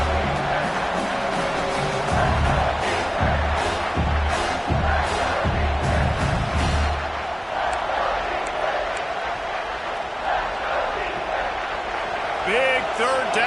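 Stadium crowd at a Canadian football game roaring behind the defense on a big third down in the red zone, a broad sustained cheer with a commentator talking over it and some sharp thuds early on.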